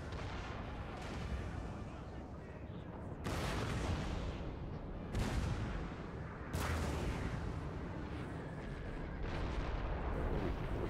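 Artillery cannon fire in the Napoleonic-era battle game Napoleon: Total War, several heavy booming shots at irregular intervals over a dense rumbling battlefield din, fairly distant and steady in level.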